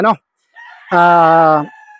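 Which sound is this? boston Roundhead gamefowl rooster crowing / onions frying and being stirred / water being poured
boston Roundhead gamefowl rooster crowing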